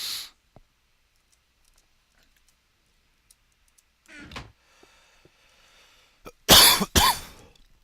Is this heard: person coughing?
yes